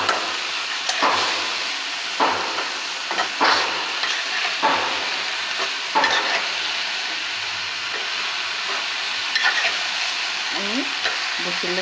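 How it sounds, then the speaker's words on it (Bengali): Thin taro stolons (loti) tossed with spices in a hot pan sizzle steadily while a spatula scrapes and stirs in repeated, close, rhythmic strokes. "দেখতেই পাচ্ছেন আমি এখন লতিগুলো দিয়ে দিচ্ছি। ভালোভাবে মশলার সাথে মিশিয়ে"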